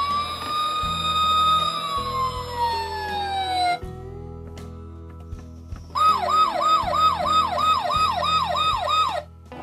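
A toy fire engine's siren blares electronically, first a long wailing tone sliding downward, then after a few clicks a fast warbling yelp repeating loudly over a background of mechanical beeps and clunks.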